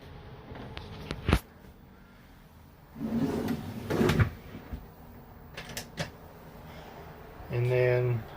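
Full-extension dovetail drawer in a Ram Promaster camper van conversion being slid open and shut, giving a sharp knock, a rolling slide, another thud and a few lighter clicks, all close by.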